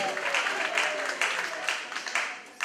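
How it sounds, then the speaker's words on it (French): A church congregation during a French sermon acclaims and applauds the Lord, giving dense, steady clapping and cheering that fills the space at a constant loud level, with voices mixed into the crowd noise. "On acclame le roi de roi. On acclame le Seigneur"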